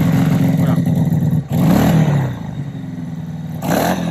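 A Bullit Bluroc 250 scrambler motorcycle starts up from neutral and idles with a loud, close, lumpy engine note, blipping up to a couple of revs before settling back.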